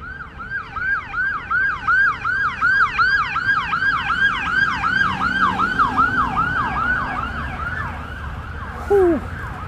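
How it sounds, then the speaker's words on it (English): An ambulance siren wails in a steady, repeating two-tone sweep, loud and close throughout, passing near a lower-league football ground at night with road rumble underneath. "it's just the ambulance"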